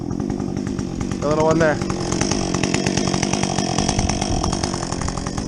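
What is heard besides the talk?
Husqvarna 562XP chainsaw with modded muffler bucking felled trees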